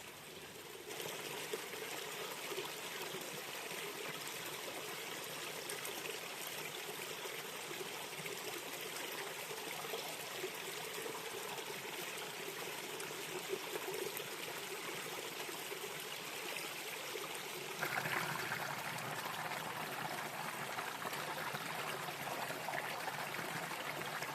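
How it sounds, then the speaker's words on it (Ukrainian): A forest stream crossing a trail near the Tovsta Hora cliffs above Khust Castle flows and trickles continuously, a steady close babbling of water that grows slightly brighter near the end, with no voices. "тут на шлях перетнув струмок"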